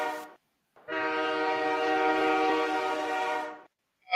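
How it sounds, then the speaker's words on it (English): A train horn sound effect blasts in one long, loud, steady multi-tone chord lasting about three seconds, preceded by a brief short toot, with no talking over it. "I think it's time for the train horns"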